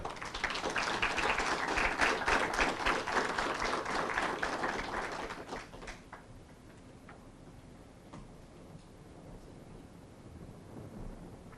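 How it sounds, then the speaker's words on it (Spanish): At a senator's event held in a screening room, an audience applauds in welcome, a dense crackle of many hands for about six seconds that then fades to a quiet murmur of room sound. "Lo recibimos con un cálido aplauso."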